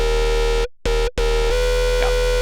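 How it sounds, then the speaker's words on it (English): A buzzy, heavily distorted synth lead plays sustained notes, cutting out briefly twice before continuing. "you can get some nice, really distorted lead sounds out of this"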